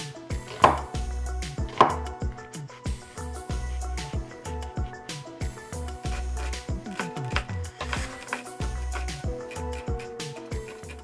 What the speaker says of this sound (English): The first thing we do, we chop our onions.